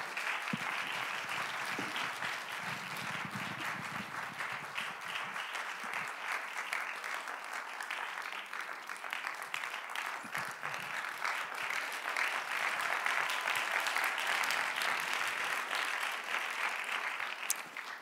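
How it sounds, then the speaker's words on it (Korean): An audience at a special English lecture gives a long, steady round of applause as the lecturer comes out, dense and even throughout and swelling slightly toward the end. "우리 나오실 때 큰 박수로 맞아주시기 바랍니다."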